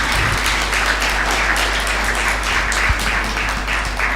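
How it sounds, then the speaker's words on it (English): Audience applause at an AMR awareness week event, a steady dense wash of clapping from a hall crowd lasting throughout, with a low hum underneath and no talk. "let's clap for them"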